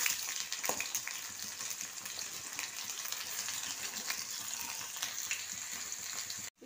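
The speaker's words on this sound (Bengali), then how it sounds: "এবার কড়াতে আবার তেল দিয়েছি। প্রথমে আমি আদা, রসুন আর কাঁচা লঙ্কাটা দিয়ে দিলাম।" Ginger, garlic and green chilli frying in oil in a wok, a continuous close sizzle with faint crackles and a few soft scraping clicks, ending with a brief clunk; no voices.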